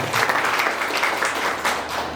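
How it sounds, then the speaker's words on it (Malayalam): An audience at a school alumni batch gathering applauds the organisers, a continuous dense wash of clapping from many hands, steady and moderately loud. "നല്ലൊരു കൈയടി നമുക്ക് അവിടെ കൊടുക്കാം"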